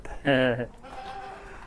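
On a dairy goat farm, a goat gives one short, wavering bleat up close, followed by people talking quietly.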